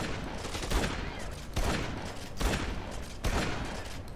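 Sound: gunfire in Dead Rising 2 video game

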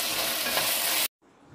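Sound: onion with ginger garlic paste frying in oil

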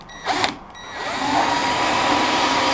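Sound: pre-drilling plywood for a DIY boat

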